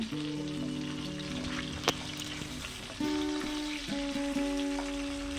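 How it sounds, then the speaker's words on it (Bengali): Pabda fish fry in hot oil over a medium-high flame, a steady crackling sizzle with a brief sharp spatter near the middle and a fresh burst of frying partway through, heard close up with no talking. "তিনটে করে মাছ ভেজে নেব মাছগুলোকে বেশ লাল লাল করে ভেজে নেব"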